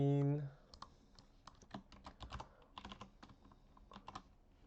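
Rapid, uneven clicking of a computer keyboard as login details are typed, close and moderately quiet, with a brief tone at the start and no talking over the keystrokes.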